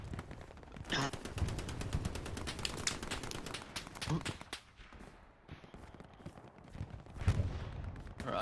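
Bursts of rapid gunfire in a multiplayer war video game, firing in rhythmic volleys with short pauses, moderately loud over a busy battle mix.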